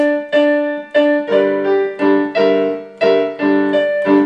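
Piano notes struck in a steady rhythm, each chord ringing clearly with a low bass note underneath, played alone without any voice.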